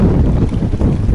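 A cool breeze blows over open water, loud buffeting wind rumbling against the microphone in a steady low roar for about a second.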